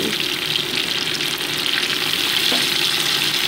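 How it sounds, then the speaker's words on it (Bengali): Small shrimp fry in hot oil with potatoes, salt and turmeric, giving a steady, close hiss of sizzling that stays even and continuous. "চিংড়ি মাছটা তেলের ওপরে ভাজাও হয়ে যাচ্ছে"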